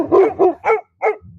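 A dog barks four times in quick succession, close and loud, the last bark after a short pause, followed by a faint low sound.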